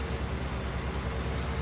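Steady rain falls in Farming Simulator 19, a dense, even hiss of drops with a faint low rumble beneath, unbroken and close throughout.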